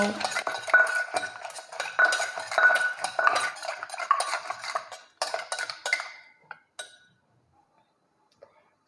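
Green papaya salad being mixed and pounded with pickled fish sauce in a mortar, a busy run of clinking, scraping utensil strokes for about seven seconds that then thins to a few isolated knocks and silence.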